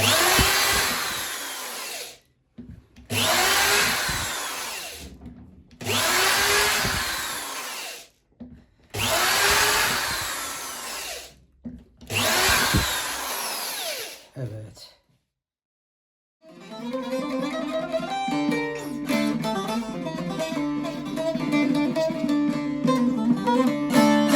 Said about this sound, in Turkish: burgu deliklerini de deldik